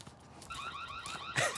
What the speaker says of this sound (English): I turned the alarm on.